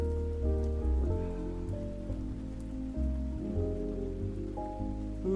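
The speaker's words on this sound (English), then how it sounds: "Listen to the rain." Steady rain falls, continuous and close, layered with sustained musical tones throughout.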